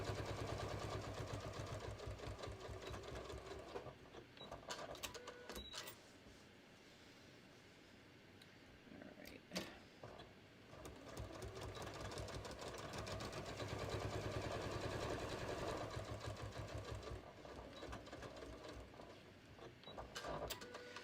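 A sewing machine runs steadily while quilting a beach tote bag at a long 4.0 stitch length, a close mechanical whirring with rapid needle rhythm that pauses briefly twice before resuming.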